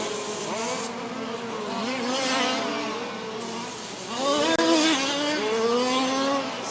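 Race cars in a Toys for Kids STC B main event roar around a track, several engines whining and sweeping past at full throttle, rising and falling in pitch as they pass close by, with a steady, loud crowd of motors.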